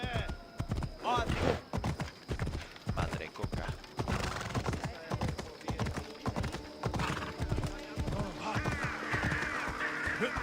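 Horse hooves clip-clop in rapid, uneven beats in the Odyssey video game, close and fairly loud, with brief spoken lines and ambient game sounds mixed in.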